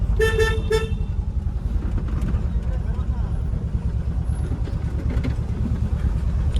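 Vehicle horns honk in road traffic: a few quick, loud toots at the start, then a steady engine rumble continues underneath, with a voice talking over it.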